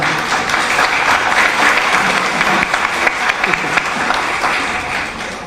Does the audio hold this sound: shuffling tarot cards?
no